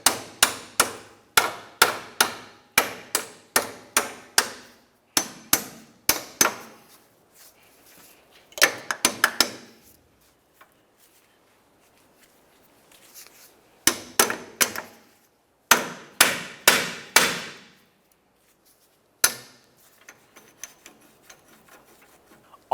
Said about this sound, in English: just go ahead and use a hammer and break it free